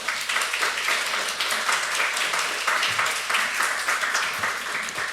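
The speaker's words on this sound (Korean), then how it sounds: "나오실 때 큰 박수로 맞아주시기 바랍니다" A church congregation at a Sunday worship service gives a guest preaching professor a warm welcome, steady full-room applause from many hands continuing evenly for several seconds.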